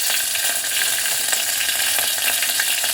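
Mustard seeds, a green chilli and a dried red chilli crackle in hot oil, making a dense, even sizzle with faint popping throughout, close up and uninterrupted.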